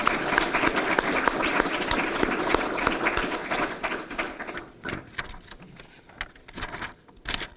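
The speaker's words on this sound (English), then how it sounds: "Please give a round of applause for our Public Affairs Office video production team." Round of applause at a machine gun championship awards ceremony: steady, close, dense clapping from a crowd that gradually thins out into scattered individual claps.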